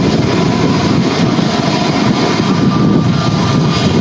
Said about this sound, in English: we got the Emirates A380 now starting its taxi to the start